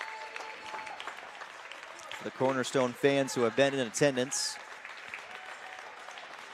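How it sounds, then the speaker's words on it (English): A home crowd at a women's college basketball game applauds Cornerstone's seniors, steady and somewhat distant, while a commentator talks over it throughout. "Cornerstone letting their seniors come out and get their applause"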